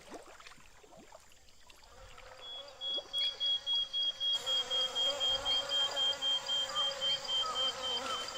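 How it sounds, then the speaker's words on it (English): Swarm of hornets buzzing in a point-and-click video game, a steady droning hum that rises sharply partway through and pulses in a rapid, even rhythm, loud and close. "There's a lot of hornets."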